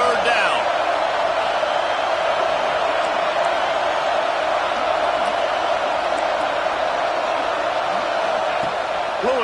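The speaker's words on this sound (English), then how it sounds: "Decibels rising as the crowd gets behind this defense on third down" Steady, loud stadium crowd roar in an American football video game as fans rally behind the defense on third down, a dense continuous wash of noise with a commentator talking over it.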